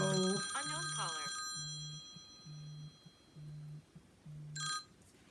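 A telephone rings indoors during a craft session, an electronic double-tone ring repeating five times at a steady pace, fairly quiet, with a brief voice at the start.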